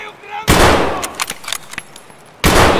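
Loud close gunshots in Escape from Tarkov, two heavy blasts with a few scattered shots between them, no talk over them.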